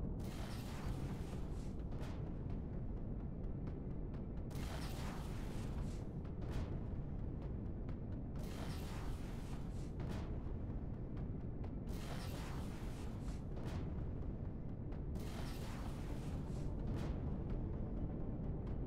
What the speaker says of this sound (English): I guess the secondary explosion.